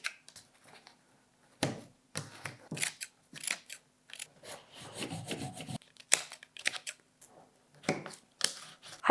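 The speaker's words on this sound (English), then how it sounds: "I'm just going to put a couple of little snips in" Close, crisp scissor snips cutting into a paper tabi shoe pattern, a run of short separate cuts with brief rustling pauses between them and no talking.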